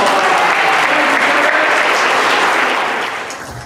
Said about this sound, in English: give Glenn a big round of applause.